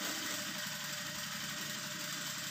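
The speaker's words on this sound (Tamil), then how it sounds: "இப்போ இந்த ஓரத்தில் மட்டும் வந்து தையல் போட்டுக்கலாம்" A sewing machine stitching along the canvas edge of a full voile blouse's back neck gives off a steady, faint motor hum with an even, unbroken texture.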